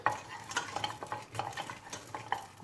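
Onion fries in olive oil over high heat with a soft sizzle, while a utensil stirs and scrapes the pan in irregular bursts close by.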